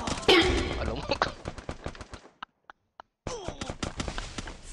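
Rapid bursts of automatic gunfire in the mobile battle game Free Fire, loud and close, with a brief silent gap in the middle before the shooting resumes, mixed with game effects and excited talk.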